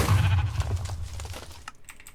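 A Minecraft sheep gives a short, loud, wavering bleat close up; the sound fades into clicky game noises.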